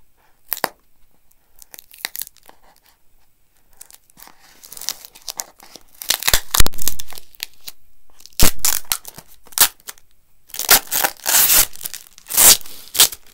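Packing tape ripped off a cardboard parcel box in a series of sharp, crackling bursts, sparse at first and then louder and more frequent toward the end, with no talking.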